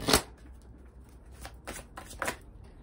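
Angel tarot cards being shuffled close by: a sharp riffle burst at the start, followed by softer, quicker card flicks and slides, with no one speaking.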